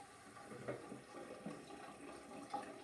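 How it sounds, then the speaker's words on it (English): A kitchen or bathroom tap runs at a gentle, steady flow into a sink, a soft continuous splash of water with slight surges, heard alone without voices. "first, turn on your water, not too hard"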